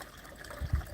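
Water from a pond skimmer and biofalls trickles and splashes softly, a faint steady flow with a couple of slightly louder gurgles.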